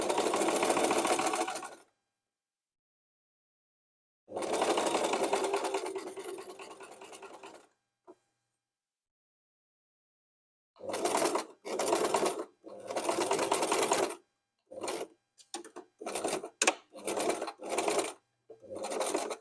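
Domestic sewing machine joining two fabrics edge to edge, running in bursts: two long stretches separated by silence, then a series of shorter runs and quick start-stop stitches near the end, close and clear with no talking.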